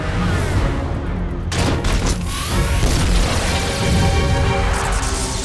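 A cartoon steel cannon fires amid a dense barrage of loud explosions and crashing booms, continuous and close, with sweeping effects layered over the battle din.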